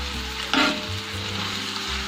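A shami kabab mixture is stirred in a hot pan, the close, steady sizzle broken by one sharp scrape of the spoon early on, then continuing evenly with no speech.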